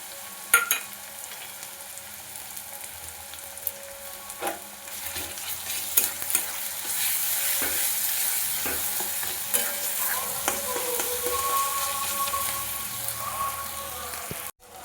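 Ginger-garlic paste stirred and frying in a pan for mutton ghugni, a steady close sizzle with scraping stirs that swells louder midway, no talk.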